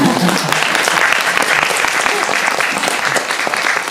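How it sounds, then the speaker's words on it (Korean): Audience applause after a post-screening film talk, a steady, loud wash of clapping that fills the room for four seconds, with a faint voice briefly audible early on. "박수."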